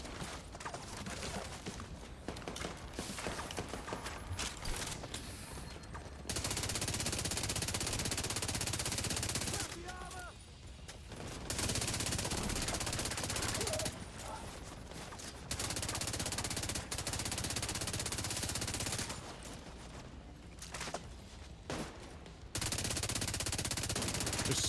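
Heavy automatic gunfire in The Division 2 shooter game, dense bursts of rapid shots broken by short pauses, loud and close throughout, with occasional mechanical clanks between volleys.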